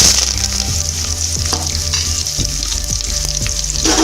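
Cumin, pepper, ginger and curry leaves sizzle loudly in a hot pan of ghee with cashews for ven pongal, a dense steady crackle broken by repeated scraping stirs of a spoon.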